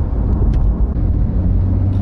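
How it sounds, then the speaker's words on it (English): Steady low tire and road rumble fills the cabin of a moving Porsche 911 GT3 4.0, a continuous droning hum with no voices. "you think the suspension's a bit hard and you think there's a bit of road noise"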